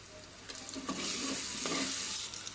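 Tomatoes drop into a hot frying pan with hing and turmeric for Telangana-style ulavacharu, giving a brief burst of sizzling and stirring that swells and fades over a couple of seconds, fairly quiet and with no talk.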